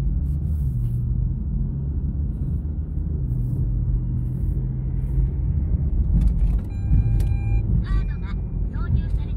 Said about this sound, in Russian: Он сейчас едет полностью на электричестве.